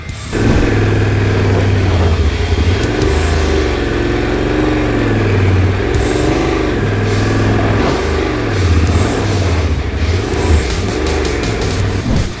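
The engine of a Yamaha Tenere 700 adventure motorcycle idles and rises in repeated swells as the clutch is slipped, loud and close, with no talk over it.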